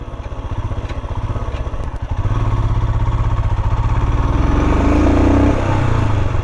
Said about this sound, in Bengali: মানে এরকম একটা জায়গার উপর দিয়ে বাইক চালিয়ে যাওয়া দারুণ এক্সপিরিয়েন্স.